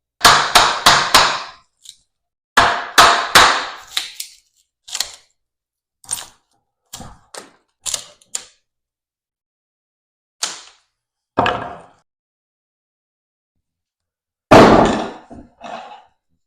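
A chisel driven by a mallet strips bark from a tree stump: sharp, close wooden knocks in quick clusters of three or four, then sparser single blows separated by silence.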